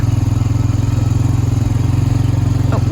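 Small farm engine, started with the choke, runs steadily at a close, loud idle with an even rapid chug throughout.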